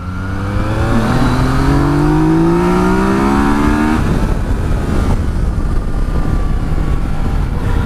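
A 2018 Yamaha Tracer 900 motorcycle engine pulls hard on a winding road, loud steady drone rising in pitch through the first half, then settling into rougher constant roar with wind rush.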